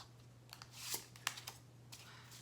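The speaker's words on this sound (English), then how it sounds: "As you see me shuffling, I'm shuffling the Orisha deck" An Orisha tarot card deck is shuffled close up in short, crisp riffles and soft flutters, with a low steady hum underneath and no speech.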